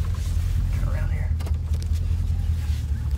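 Old Chevrolet C3500 pickup, run again after two years parked, rolling along with a deep steady engine drone and road rumble while someone talks over it.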